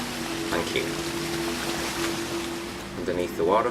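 Rushing water beneath a waterfall in The Witcher 3: Blood and Wine, a steady broadband roar filling the scene, with a voice talking over it and a steady game hum underneath.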